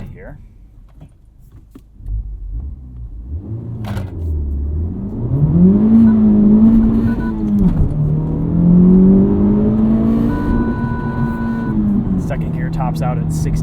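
A 2023 Honda Civic Type R accelerates hard from a stop, engine note climbing through the gears with a brief dip at each shift, loud and close from inside the cabin.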